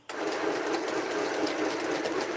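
Quilting sewing machine running continuously with a harsh, rattling mechanical clatter that starts abruptly and holds steady, close and fairly loud, with no talk over it.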